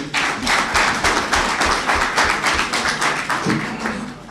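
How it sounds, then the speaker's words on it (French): A hall full of students, mostly boys, applauds at a talk on women's rights, producing a dense, loud, continuous wash of clapping with a rhythmic pulse and a brief voice near the end. "Les garçons, applaudissez pour vous-même"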